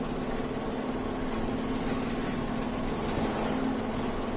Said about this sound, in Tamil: அதனால வண்டி இவ்வளவு ஃபாஸ்டா போயிட்டு இருக்கு